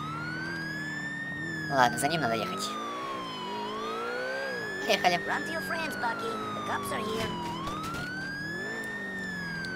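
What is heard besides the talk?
police car siren in video game GTA IV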